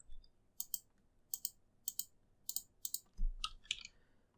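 Someone types a short command on a computer keyboard, with close, quiet keystrokes falling in small bursts of two or three, ending in a slightly heavier flurry of presses.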